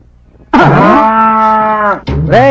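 A buffalo being fed milk lets out a long, loud, close moo, then a second rising call after a brief pause, with no voices.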